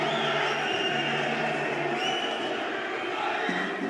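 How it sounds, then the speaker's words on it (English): Morocco supporters at a Kings League World Cup Nations football match against Colombia make a loud, steady roar of crowd noise, with chanting tones and a few raised voices in the distance. "the reaction from the crowd, the noise, the fact that it gets them fired up"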